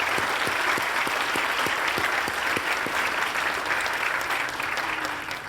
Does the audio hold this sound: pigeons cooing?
no